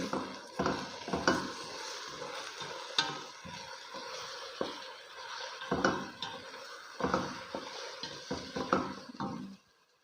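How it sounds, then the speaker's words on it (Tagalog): Chicken stew being stirred in a cooking pot with a spoon, giving irregular scraping and clunking strokes over a soft sizzle, close and fairly quiet, ending abruptly near the end. "Ihalo na natin."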